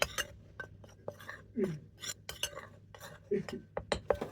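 Flour, black pepper and salt being mixed for a fish coating: a run of light scraping and clinking taps of a spoon against a bowl, close and irregular, with no talk.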